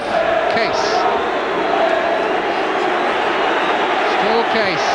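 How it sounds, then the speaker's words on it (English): A football crowd boos a player during a match between English clubs such as Everton, Liverpool, Middlesbrough or WBA, a steady distant roar from the stands under continuous commentary. "the booing won't put him off"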